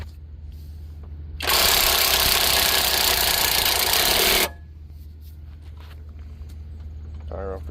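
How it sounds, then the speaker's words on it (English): Impact wrench driving a car jack to raise a 2020 Chevrolet Equinox for a brake and rotor job, one loud continuous burst of about three seconds standing out over a low steady engine-like hum. "I'm gonna go ahead and jack it up more with the impact here to get this tire up off the ground."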